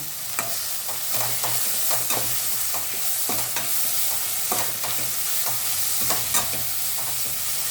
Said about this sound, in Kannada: ಮೆಂತ್ಯ ಸೊಪ್ಪು ಫ್ರೈ ಆಗಿದೆ ನೋಡಿ, ಕಟ್ ಮಾಡಿ ಇಟ್ಕೊಂಡಿರೋ ಒಂದು ಟೊಮೊಟೊನ ಹಾಕ್ತಾಯಿದ್ದೀನಿ